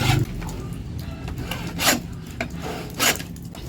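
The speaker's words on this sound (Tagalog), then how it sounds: "mabilis po talaga yung aming paglalagari ng kawayan" A hand saw works through bamboo in steady, rasping back-and-forth strokes, close and fairly loud, with a few sharper scraping surges along the way.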